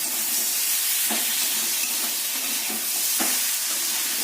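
Flat beans frying in a wok give a continuous hiss of sizzling, with a few soft scrapes and knocks of a spatula as they are stirred, close and steady.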